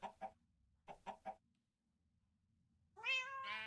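A cat meows several short times, then gives a longer, louder drawn-out meow near the end, close by in a quiet room with a low background hum.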